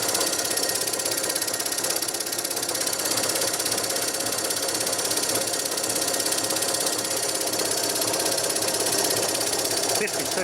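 A vintage compressor driven by a variable frequency drive runs steadily with a dense mechanical clatter and whine, loud and continuous throughout.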